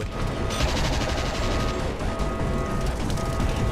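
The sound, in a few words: turret gunfire and explosions in the Judge Dredd vs. Death video game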